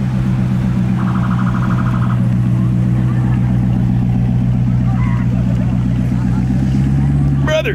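A car engine running with no exhaust fitted, at a modified car meet: a loud, raw, steady rumble that holds close throughout, with a brief higher mechanical whine partway through.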